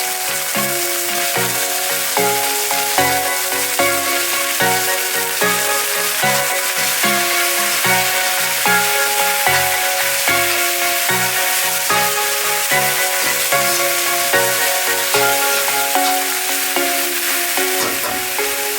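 Beef and broccoli stir-frying in a pan, a loud continuous sizzle and crackle lasting throughout, with steady rhythmic stirring or tossing and no talking.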